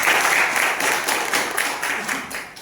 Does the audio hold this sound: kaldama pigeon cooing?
no